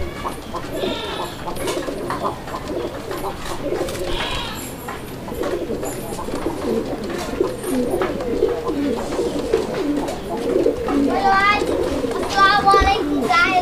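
A pair of red Bombay pigeons coo at a market stall, repeated throaty coos near the microphone among other birds and general chatter, with people talking over them.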